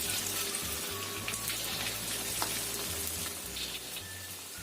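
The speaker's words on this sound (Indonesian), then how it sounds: "Setelah panas, ini kita goreng ayamnya." Chicken pieces fry in hot oil over a medium-low flame, giving a steady, dense sizzle and crackle that runs without a break, with a low hum underneath.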